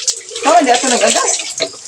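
Tap water pours into a bath, a close splashing rush that starts after a brief pause and runs nearly continuously to the end.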